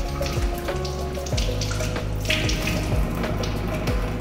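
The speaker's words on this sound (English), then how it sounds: "Wet hands with water." Tap water runs steadily into a sink while hands are wetted under the stream, a close, loud splashing rush with shifting gurgles as the hands move through the flow.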